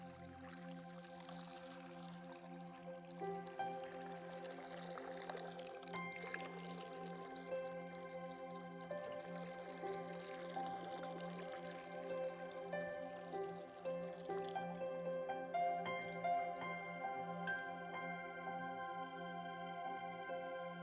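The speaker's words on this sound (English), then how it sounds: "And so what you might do is pour water into a font." Water is poured into a baptismal font, a long trickling stream with ringing, resonant tones that settle into dripping, fairly quiet and heard alone without talk.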